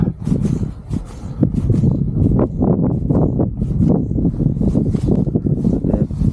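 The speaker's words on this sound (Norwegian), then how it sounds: "Nå kommer det egentlig vind fra alle kanter." Steady wind buffeting the microphone, a continuous low rumble with gusty swells and flutter, loud and close, with no voices.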